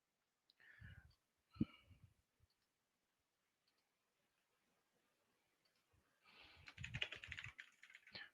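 Fingers type on a computer keyboard in short clicky bursts, a few quick keystrokes early, then a pause, then a dense run of rapid typing toward the end, close and crisp in a quiet room.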